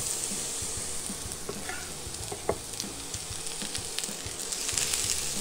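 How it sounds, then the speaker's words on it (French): Diced courgette spits and sizzles in hot oil, a soft, even frying hiss with small crackles and a few stirring knocks, fairly quiet and without talk. "on va pouvoir la plonger dans notre huile"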